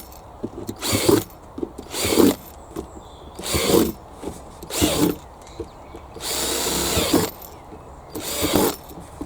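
Repeated short bursts of a power drill boring drainage holes in planters, about seven whirring pulses with brief pauses between, close and fairly loud, one burst running longer.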